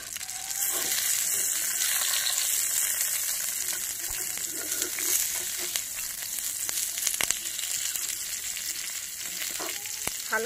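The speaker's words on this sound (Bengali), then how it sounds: "হালকা আঁচে ভাজলে এটা ভালো হবে, আস্তে আস্তে করে ভাজতে হবে।" Mrigal fish pieces fry slowly over low heat for paturi, cooked outdoors in a garden, giving a steady, close, crackling sizzle with faint spatter and no voices.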